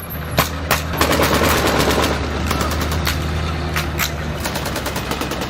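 Rapid machine-gun fire and scattered gunshots ring out in an animated war battle against Pakistani tanks, sharp bursts cutting through a loud, sustained rumble of combat for the whole stretch.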